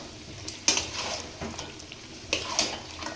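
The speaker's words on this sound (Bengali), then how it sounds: "এবার এটাকে কষাতে হবে ভালো করে মাংসটাকে।" Chicken being stirred in a spiced masala in a pan, with soft sizzling and a few scraping clatters of a spoon against the pan at irregular moments.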